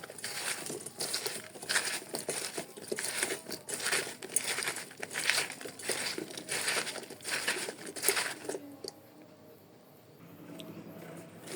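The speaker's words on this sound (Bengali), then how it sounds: "এখন আমি ভালোভাবে চটকিয়ে নেব।" Guava pickle mashed with salt by hand: close, wet squishing and crinkling strokes in an uneven rhythm for about eight seconds, then quiet.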